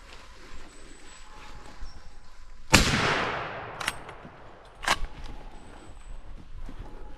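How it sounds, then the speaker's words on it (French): A single sharp, loud rifle shot fired at a young stag during a deer hunt cracks out and echoes away. Two fainter sharp knocks follow a second and two seconds later against quiet outdoor ambience. "et je n'ai le droit de tirer qu'un daguet."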